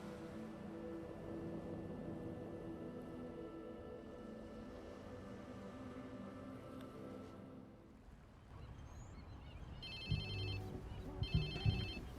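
A mobile phone ringtone sounds in the Watch Dogs video game, two short bursts of ringing near the end after a low rumbling, engine-like background hum.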